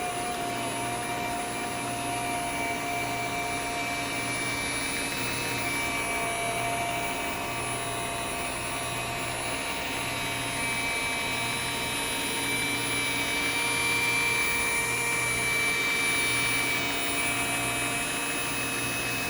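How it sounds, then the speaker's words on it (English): A rotary polisher runs steadily at its lowest speed on car paint while a graphene coating is prepped, giving a continuous whirring drone with a faint high whine that holds even throughout, close by and with no talk. "This particular polisher spins a lot slower than the majority of other rotaries on its lowest speed"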